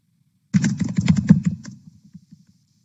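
A short burst of rapid typing on a computer keyboard, close and clear, with quick key clicks for about a second before trailing off into a few slower taps.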